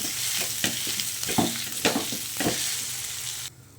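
Boiled potatoes with salt and fried pointed gourd being mashed together by hand, a run of close squelching, pressing and scraping strokes at an uneven rhythm that stops abruptly near the end.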